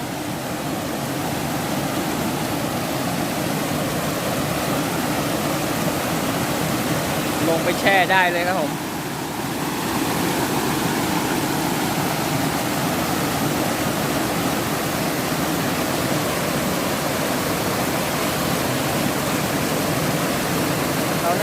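Steady, loud rushing water from a waterfall fills the whole stretch, a constant broadband roar, with someone talking briefly in Thai over it.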